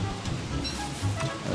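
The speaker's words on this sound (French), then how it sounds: "La pluie." Steady rain in the video game Don't Starve, a continuous soft hiss of falling drops at an even, moderate level throughout, with no talking.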